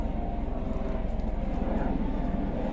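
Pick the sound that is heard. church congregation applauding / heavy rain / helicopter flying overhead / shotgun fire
helicopter flying overhead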